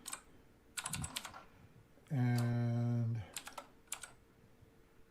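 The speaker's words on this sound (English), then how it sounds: "I am typing in a little basic program here." Keys clatter on a clicky, backlit USB keyboard attached to a Color Computer 2 in quick bursts of sharp clicks, broken by a loud sustained tone about a second long, with a short spoken word at the start.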